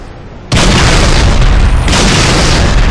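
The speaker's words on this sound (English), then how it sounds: "Who's throwing grenades?" Grenade blast in the Halo Reach video game: a sudden, very loud boom that swells into a dense, roaring rumble and keeps filling the space for the rest of the moment, with no voices over it.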